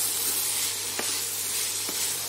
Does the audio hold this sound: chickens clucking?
no